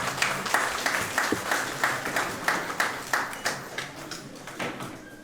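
An audience applauding with distinct, loosely rhythmic claps that thin out toward the end, moderately loud and near, with no talk over them.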